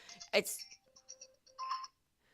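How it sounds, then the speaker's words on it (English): A mobile phone rings with an incoming call, its short ringtone beeps sounding faint and a little distant indoors, just after a brief voice. "That's Dad's phone."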